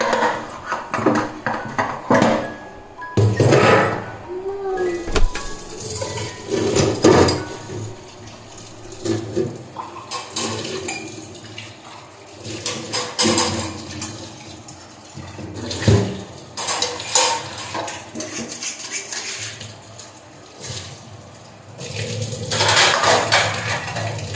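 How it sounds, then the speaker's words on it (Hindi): Dishes being washed at a home sink: a bowl, spoon, small glass and plate clink and knock under a running tap, with water splashing steadily and brief louder clatters throughout, no talking. "इन्हें साफ कर देती हूँ। एक कटोरी, एक चम्मच, एक गिलासी, एक प्लेट"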